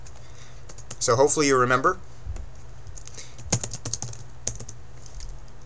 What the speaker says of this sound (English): And so now I'm typing in my password that I created at the same step